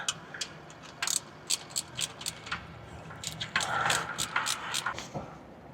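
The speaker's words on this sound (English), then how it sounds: "We're gonna put in a bolt and another one. This is a long bolt." A socket wrench bolts a new starter into place under a box truck, with quick ratcheting clicks in irregular bursts over a low background rumble.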